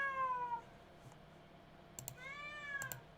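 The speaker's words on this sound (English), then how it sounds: "I am sorry you are hearing my cat." Pet cat meowing indoors, one drawn-out meow at the start and another longer, rising meow after a pause near the end, faint and close, with soft keyboard clicks in between.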